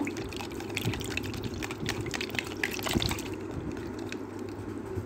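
Neem water mixed with aloe vera gel is poured, a soft, close, steady trickle and splash of liquid lasting a few seconds with no voices.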